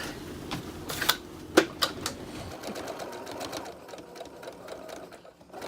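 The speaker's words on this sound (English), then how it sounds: "then we're going to top stitch around 3 out of the 4 sides: utensils, napkin, and cup" A sewing machine top stitches pockets onto a fabric messenger-style market bag, a close, fast mechanical whir with a few sharp clacks early on, the running fading to quieter hum by the end.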